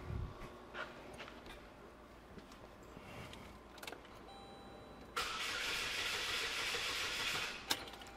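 A 2006 Saturn ION 2.2L with its fuel injectors disabled cranks over for a few seconds. The starter's rhythmic churning begins abruptly partway through and runs steadily, following quiet shop background noise.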